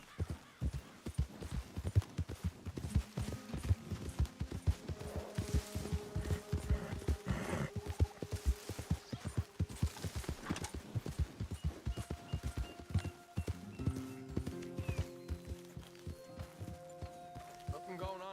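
A horse gallops in the video game Red Dead Redemption 2, rapid rhythmic hoofbeats pounding close and steady throughout, with sustained tones of the game's music rising underneath toward the end and a voice speaking briefly.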